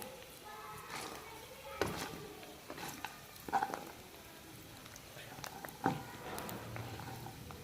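Spices dry-roasting in a pan, with scattered light scrapes, clicks and patters of stirring over a faint sizzle, now and then louder taps against the pan.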